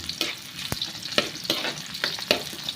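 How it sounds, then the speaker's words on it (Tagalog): Sautéing in a pan for sinigang sa miso with catfish: a close, bright sizzle with repeated spatula scrapes and clacks at an uneven, brisk pace, and no voices. "Gisa po natin, gisa-gisa lang."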